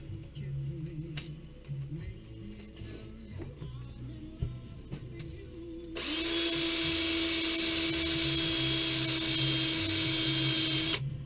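A buffing wheel polishing motorcycle rocker boxes. Quiet clicks and faint handling noises come first, then the motor spins up into a loud, steady high whine that holds to the end.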